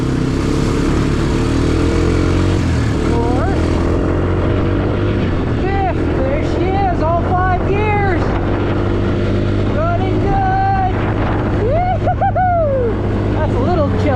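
A Honda Recon 250 ATV engine runs loud and close as it is shifted up through the gears, the pitch climbing and dropping with each shift, while a person talks over the steady drone.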